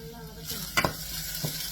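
Fennel seeds and fenugreek are sautéed in a pan for a winged bean curry, giving a soft, quiet sizzle with a few brief stirring scrapes in the middle and no talking.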